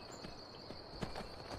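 Horse hooves clip-clop quickly at sprint speed in the video game Skyrim, a fast, steady rhythm, quiet and somewhat distant beneath a faint background tone.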